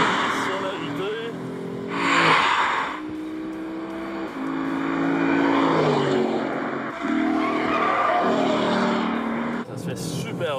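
Lexus RC-F with a 467-horsepower engine on a racetrack, a loud sustained engine roar rising and falling through gear changes as the car exits corners, with a brief burst of intake or exhaust rush, heard close throughout.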